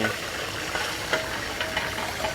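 Pad thai stir-fried in a pan at a Thai street food stall, a steady busy sizzle and hiss with occasional soft scrapes of the spatula, fairly close and continuous without talk.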